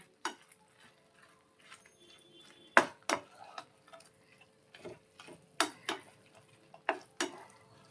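A metal spoon clinks and scrapes against a pan while fried bottle gourd is mixed into a home-cooked dish, giving sparse, sharp taps spaced irregularly over quiet background.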